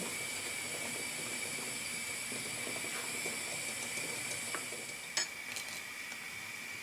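Broth with dissolved onion boils in a pot for green borscht, giving a faint, steady hiss with soft bubbling and a few small clicks near the end.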